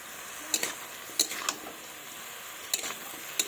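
Fish and vegetables stirred together in a cooking pan for a pumpkin, spinach, onion-stalk, potato and patashi fish dish, with a few sharp utensil scrapes and clinks over a soft continuous sizzle.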